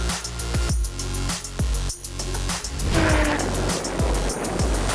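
A McLaren 675LT and a Lotus Exige V6 Club Racer roar through a drag race, their engines loud and close as they rev hard. Repeated upshifts cut in, each followed by a climbing whine as the cars pass.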